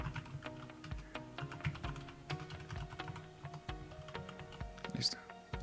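Login email and password are typed on a computer keyboard: a run of close, quick, uneven key clicks with short pauses between bursts, quiet and alone.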